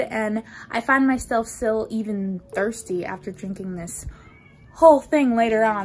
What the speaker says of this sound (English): She's meowing.